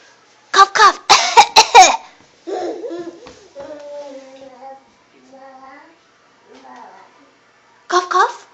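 A voice coughs in several quick bursts up close, followed by an adult talking gently, then a couple more short coughs at the end.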